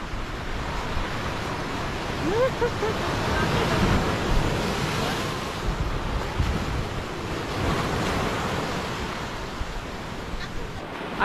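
Ocean surf rolls steadily onto the beach at Green Bay, Banyuwangi, a continuous wash of breaking waves swelling and easing, with wind buffeting the microphone close by.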